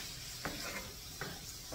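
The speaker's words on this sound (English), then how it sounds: "We're going to get all that stirred up." Potatoes and broken-up breakfast sausage sizzle steadily in a pan, with a few soft scraping stirs of a utensil breaking through the continuous frying hiss.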